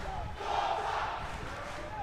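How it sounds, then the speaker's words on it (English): A rugby crowd at a schools quarter-final between Wesley College and St. Joseph's College keeps up a steady, moderately distant roar, sustained and fairly even throughout. "the crowd roaring and supporting this and backing up St. Joseph's"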